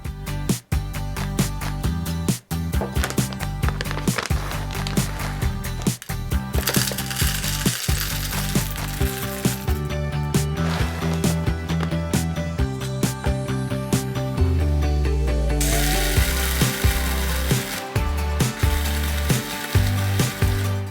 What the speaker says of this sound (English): This is just a simple, very small coffee grinder, herb grinder, nut grinder